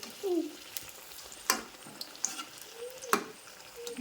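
Mirchi bajji, battered chili fritters, frying in oil on medium heat, a faint bubbling sizzle broken by a few sharp clicks and scrapes as they are turned.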